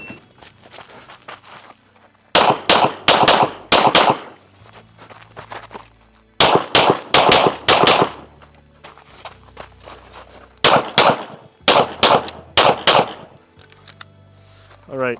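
Pistol shots ring out on a USPSA shooting stage, using mixed types of ammunition. They come as several sharp, loud bursts of quick, closely spaced reports, with quieter gaps of movement and shuffling between them.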